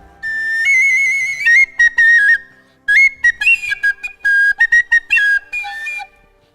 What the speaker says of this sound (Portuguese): Essa aqui, por exemplo, é uma flauta celta. É o que eles chamam de whistle.